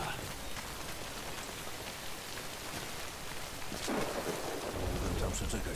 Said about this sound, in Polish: Mogę tam przeczekać ten deszcz.